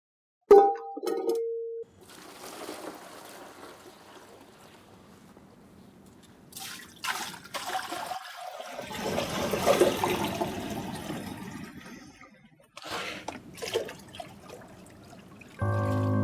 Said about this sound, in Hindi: बस करें पापा, इतना पानी काफी है।